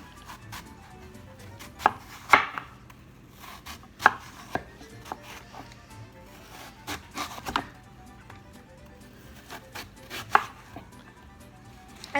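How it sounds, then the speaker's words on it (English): A knife chops an apple into slices on a board for mini apple pies, giving a series of sharp, irregular close-up thuds and cuts with short pauses between. No one speaks. "we're going to just cut down slices"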